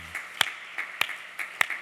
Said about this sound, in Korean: 우리 큰 박수를 하나님께 영광 돌리고 격려하겠습니다